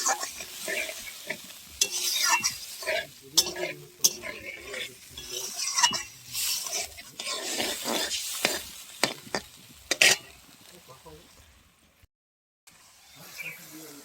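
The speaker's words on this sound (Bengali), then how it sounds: "ভালো করে মশলাটাকে কষিয়ে নেব।" Spice paste for mutton curry is stir-fried in a pan, with loud, repeated scraping and clattering of a spoon against the pot over a crackling sizzle. The sound goes quiet briefly near the end.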